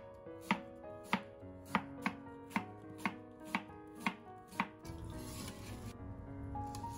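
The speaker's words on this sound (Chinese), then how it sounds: "然后我们再把梨给它切成薄片，切得越薄越容易煮出味" A knife slices a pear into thin pieces on a board, about nine crisp, evenly spaced chops close up, followed by a softer rustling clatter as the slices are moved.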